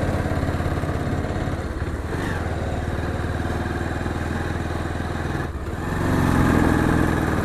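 Motorcycle engine climbing a steep mountain road toward Namchi, a steady close mid-pitched drone that holds throughout, briefly dipping and then swelling louder near the end.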